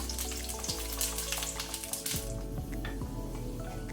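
Twelve garlic cloves fry in oil in a pan toward golden brown, giving a steady crackling sizzle with scattered pops and a few soft clanks of a utensil against the pan.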